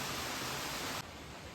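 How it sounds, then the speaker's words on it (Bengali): Steady rain falls continuously in a hill-town setting in Darjeeling, a dense broadband hiss that drops slightly in level partway through, with no voices. "দেখো কি বৃষ্টি হচ্ছে"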